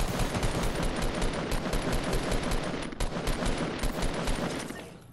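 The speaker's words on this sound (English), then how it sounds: "I'm getting shot!" Rapid bursts of automatic gunfire in Fortnite Battle Royale, dense rattling volleys crackling steadily and loudly with a brief break midway, fading toward the end.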